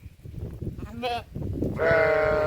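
Two goat bleats ring out close by, the second longer and louder, over a background of rustling and low murmuring voices.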